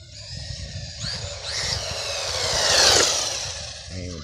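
An RC monster truck's electric motor whines and revs in rising, falling bursts at full throttle, growing louder to a peak near the end before easing off.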